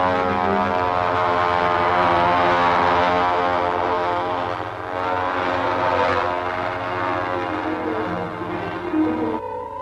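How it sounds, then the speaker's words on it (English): A model airplane's propeller engine in flight in a 1946 film serial, a steady droning buzz with a sustained tone that swells and eases slightly, heard alone, fairly loud and continuous. "I have no idea from what location he will launch the model airplane"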